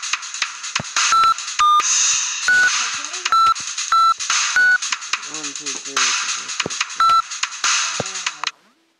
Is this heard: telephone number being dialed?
yes